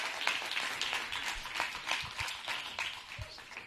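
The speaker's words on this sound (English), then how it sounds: "clap your hands and give the Lord a praise" A church congregation claps hands at a worship service, a quiet, rhythmic run of claps in a steady beat.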